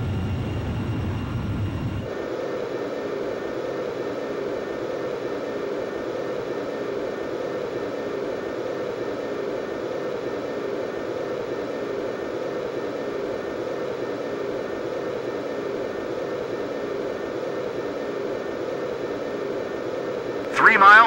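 Jet fighter engine on landing approach in the video game Ace Combat 05, a steady, loud broadband roar that holds evenly for about twenty seconds after a quieter opening moment.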